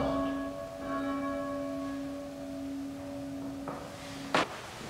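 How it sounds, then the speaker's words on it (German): Church bell at an evangelical church in Dortmund-Löttringhausen rung for the Easter night service, sustained tolling tone fading slowly and fairly faint, ending with a sharp louder clank near the end. "Mit Glockenschlägen begeben wir uns nun auf den Weg durch die Feier der"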